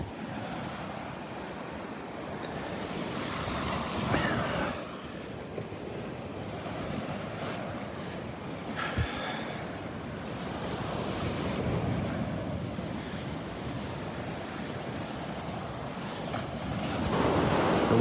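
Ocean surf rolls steadily onto the beach at Delnor-Wiggins while gusty wind buffets the microphone, producing a loud continuous roar with swelling waves and no talking.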